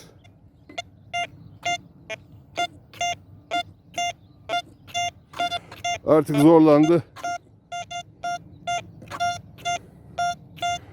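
A metal detector gives a steady run of about twenty short, high-pitched target beeps in an even rhythm, close and clear, with a brief burst of speech breaking in midway.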